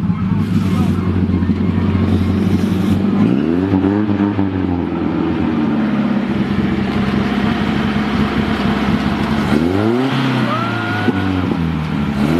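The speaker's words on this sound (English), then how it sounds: "Think I hear Josh coming. Oh, that backfire." Modified car approaching with audible engine revs that sweep up and down, the exhaust loud and raspy with a backfire pop among the revving, near and dominant throughout.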